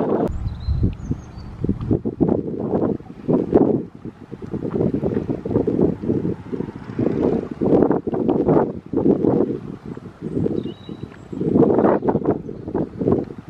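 A cold wind blows outdoors on a sunny day, buffeting the microphone in loud, gusting rumbles that rise and fall irregularly with no talk.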